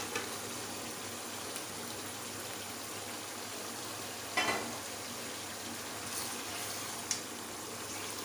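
Roasted chicken pieces dropped into frying masala, a soft continuous sizzle with a brief clattering stir and a couple of small knocks later on.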